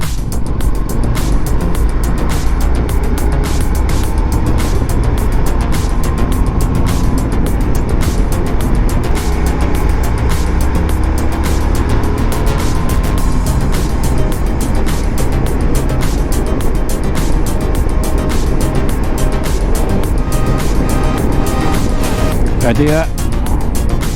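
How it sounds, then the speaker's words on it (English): A car overtaking a motorcycle on a road approaching a blind summit and bend, heard as a loud, constant rush of engine and wind noise close by, with a voice briefly over it. "Why would you overtake a bike just as you're approaching a blind summit and a bend?"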